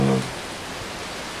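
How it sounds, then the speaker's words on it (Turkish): Steady rain falling in the video game Mini World, a constant noisy wash that follows a brief loud burst at the start and continues evenly at moderate level. "Çok yağmur var. Bak çok ses var."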